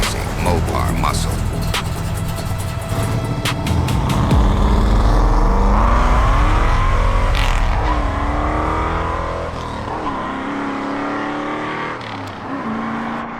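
A 1970 Plymouth Road Runner with a 440 Six Pack V8, four-speed manual and Air Grabber hood rumbles and revs, the engine swelling to a loud roar then easing off, mixed with music and a narrating voice.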